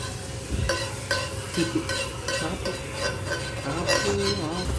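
Butter sizzles in a pan in place of oil while paneer is roasted, a steady crackling fry with clinks and scrapes of a utensil stirring against the pan.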